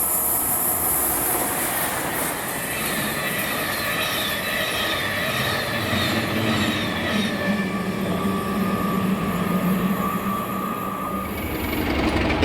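Class 92 locomotive 92.043 hauls an empty sleeper train from Polmadie toward Edinburgh Waverley in Scotland, a loud continuous rumble of rolling stock and wheels with high metallic squeal, steady throughout and close by.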